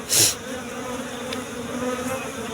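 Honey bees buzz steadily in and around a hive box after being moved, with a brief louder burst near the start and a continuous hum throughout.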